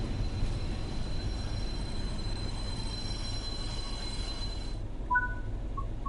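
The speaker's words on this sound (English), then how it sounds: "the locomotive brake has become really effective over the course of this journey." A BR Class 31 diesel locomotive brakes in the train simulation game Train Sim World 4. Steady rail rumble and rolling noise play throughout, with a high whine that fades near the end and a few short squeals at the finish.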